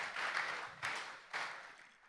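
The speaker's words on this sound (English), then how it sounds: "So give her a resounding round of applause" Audience applause at a group colloquium, a dense wash of clapping that swells in waves and tapers off over a couple of seconds, fairly faint and distant.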